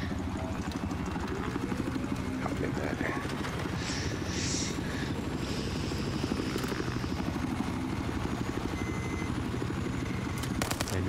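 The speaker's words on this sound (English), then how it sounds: "Enemy chopper's low." An enemy helicopter flying low in the Battlefield video game, its loud continuous rotor chop and engine drone filling the whole stretch steadily and close, with faint game noises layered on top.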